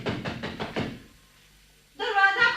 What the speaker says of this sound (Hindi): दरवाजा खोलो, अविनाश